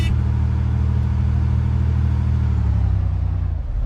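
A purple SUV in the survival game DayZ Epoch, its engine giving a loud, steady close-up rumble that holds evenly throughout with no voices over it.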